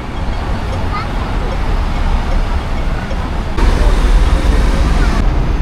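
Steady Hong Kong street traffic rumbles with cars, Teslas among them, passing close by amid a broad background hum and a faint murmur of people.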